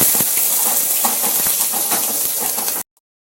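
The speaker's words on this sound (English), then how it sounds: "Now I'm going to go ahead and slide in my onions." Onions hit hot extra virgin olive oil in a pan and set off a loud, steady hiss and crackle that cuts off abruptly.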